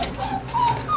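A young puppy from a litter whimpers in a few short, high, thin whines close by, with a low background hum and no speech.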